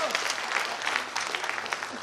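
An audience at a company anniversary ceremony claps together, a continuous patter of many hands at moderate volume, with talking heard faintly over the clapping.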